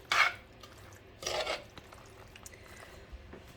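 A spoon works through a thick ricotta and seasoning mixture for baked ziti, giving two short bursts of wet scraping against the bowl. Between them come quiet clinks and soft rustling, all close and fairly faint.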